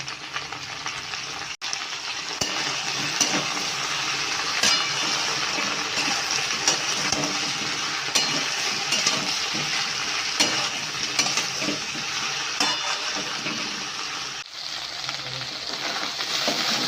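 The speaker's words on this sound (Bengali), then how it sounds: "ঢ্যাঁড়সটা আমার ভাজা হয়ে গেছে ভালোভাবে" Okra (ladies finger) with salt and turmeric frying in a pan, a loud continuous sizzle with steady stirring scrapes close up, no talking.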